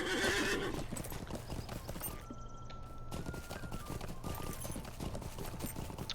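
A horse gallops in a Lord of the Rings Online game, producing steady rhythmic clip-clop hoofbeats with a neigh near the start, with faint game sounds in the background.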